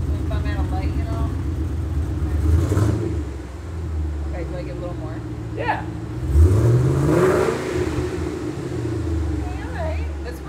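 A 650 HP twin-turbo Coyote V8 in a Mustang revs in a couple of rising bursts over a steady idle, with people talking over the engine noise.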